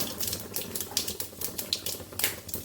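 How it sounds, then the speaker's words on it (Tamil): Mustard seeds, urad dal and cumin spluttering in hot oil as a tempering for rasam: dense, rapid crackling pops, close and fairly loud, in an irregular rattling stream with no talk. "எண்ணெய் காஞ்சிருச்சு கடுகு உளுத்தம்பருப்பு கொஞ்சமாக சீரகம்"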